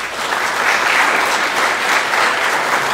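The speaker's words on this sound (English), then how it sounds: "So let us affirm these graduates with a round of applause." Congregation at a Sunday worship service in Central Lutheran Church applauds its graduates, a full, loud, steady round of clapping filling the sanctuary.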